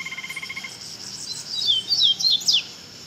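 A double-collared seedeater kept in a cage sings a bright, fast run of high whistled notes and quick sweeping chirps, preceded by a rapid ticking series, close and clear over faint background hiss.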